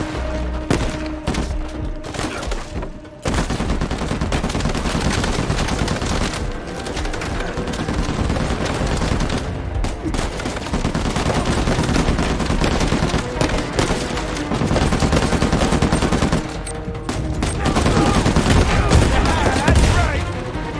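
Repeated grenade blasts and bursts of rapid gunfire fill a firefight in the Uncharted 4 video game, loud and nearly continuous, with a brief lull early on before the barrage resumes.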